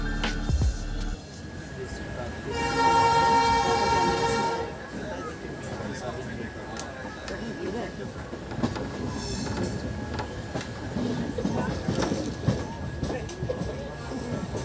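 An Indian Railways passenger train runs on the line toward Haridwar and Dehradun. A steady rumble of wheels on the track carries a sustained squeal and rattle that rises for a few seconds and then eases back to a rolling clatter.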